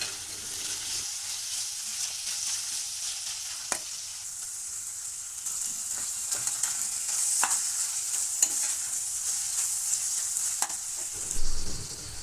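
Tomatoes going into minced meat (qeema) frying in a pan, a continuous close sizzle and hiss with periodic utensil knocks and stirring scrapes, no voices.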